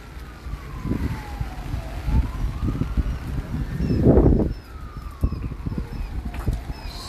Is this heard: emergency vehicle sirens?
yes